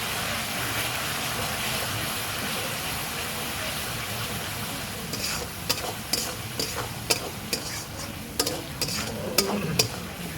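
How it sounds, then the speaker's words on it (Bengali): Blended spice paste sizzles and fries in a pan, a steady dense hiss joined in the second half by sharp scraping and stirring strokes against the pan, close and fairly loud. "দিয়ে এবার ভালো করে এটা আমি কষিয়ে নেব"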